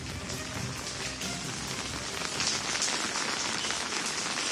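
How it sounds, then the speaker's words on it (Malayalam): Heavy monsoon rain pouring steadily over Kozhikode, a dense unbroken hiss of drops drumming on surfaces, close and loud throughout with no talk. "കോഴിക്കോട് മേഖലകളിലൊക്കെ തന്നെ ശക്തമായ മഴയുണ്ട്."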